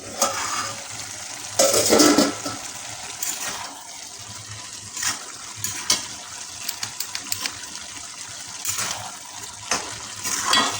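Bottle gourd (lau) cooks in its own released water in a pan for a fish-head ghonto. A soft, steady simmering hiss runs throughout, broken by several louder bursts of stirring and scraping and no talking.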